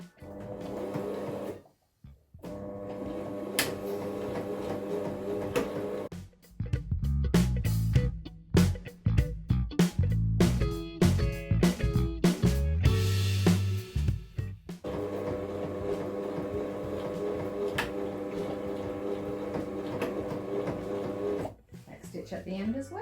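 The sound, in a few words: sewing machine doing a straight stitch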